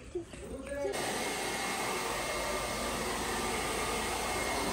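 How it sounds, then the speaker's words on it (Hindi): Hair dryer blowing on two dogs after their bath; after a brief moment of voices the dryer switches on and roars steadily and loudly at close range. "सो गाइस मैं दोनों नूं नवा के ड्रायर मारती है"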